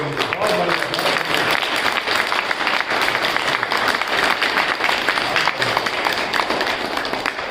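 Audience applause at a patriotic Hindi poetry gathering, sustained crisp clapping from a crowd throughout, with a voice speaking intermittently over it.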